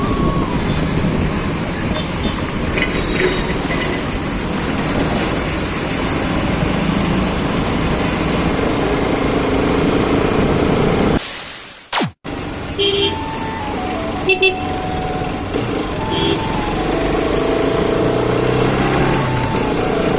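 Steady roar of an RS200 motorcycle riding along a road in Bangalore with strong wind rush, a brief dropout midway, and a horn toot.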